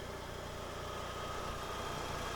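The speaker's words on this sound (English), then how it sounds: "The engine is a 4G63. Running condition seems to be good. You can never really tell with just idling" Mitsubishi Lancer Evolution I with its 4G63 engine idling, a quiet, even mid-pitched hum with a faint steady vibration and no talking over it.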